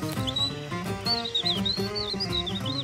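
A person imitates a skylark's song as an improvised instrument, a rapid warbling, chirping whistle heard close and continuous above a steady musical backing.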